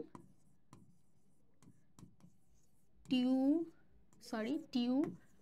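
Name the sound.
writing a scientific name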